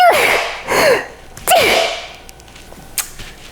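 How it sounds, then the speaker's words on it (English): A person in a kitchen sneezes twice in quick succession, each sneeze loud and close with a sharp burst and a falling vocal tail, followed by quiet breathing and small clicks. "I sneezed away from the salmon"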